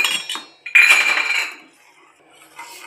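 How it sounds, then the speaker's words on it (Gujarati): A spoon stirs milk mixed with custard powder in a pot over low heat, making a few close metallic clinks and scrapes against the pot before a quiet pause. "આપણે 2 થી 3 મિનિટ માટે ધીમા ગેસે આવી રીતે હલાવતા રહેશું."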